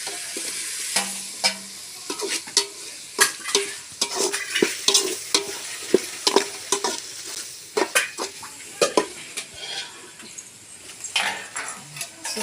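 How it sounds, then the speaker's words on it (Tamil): Tomatoes being sautéed with onion and ginger-garlic paste in a pan for a country chicken curry, with a continuous sizzle under frequent scraping and clinking stirring strokes from a utensil against the pan, close and without talk. "இது கூடயே தக்காளியை சேர்த்து வதக்கிப்போம்"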